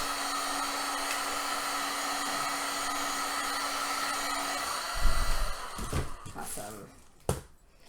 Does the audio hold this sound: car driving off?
no